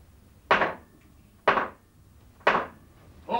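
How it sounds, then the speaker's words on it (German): Three loud, evenly spaced wooden hammer blows at a ceremonial fool's academy doctorate conferral, each sharp knock ringing briefly before the next, with no talk over them. "ihr habt die Schläge des Hammers vernommen"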